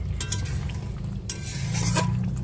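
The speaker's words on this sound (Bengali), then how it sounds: "দিয়ে একটু ভালো করে নাড়াচাড়া দিয়ে দিই" Fish curry of aar fish being stirred in a pan, a low continuous simmering bubble with soft, irregular scrapes and clicks of the spoon against the pan, close and alone.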